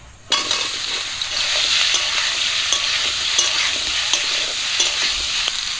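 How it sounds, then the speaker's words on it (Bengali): Turmeric-coated raw mango pieces hit hot mustard oil with bay leaves, dried chillies and five-spice. A sudden loud sizzle bursts in at the start, then a steady crackle continues, broken by stirring scrapes and clinks. "এখন হলুদ মাখা আমগুলো দিয়ে দিচ্ছি।"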